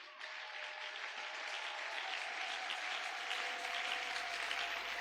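A church congregation bursts into sustained, dense applause to acclaim God, a broad wash of many hands clapping that holds steady and grows slightly fuller over several seconds.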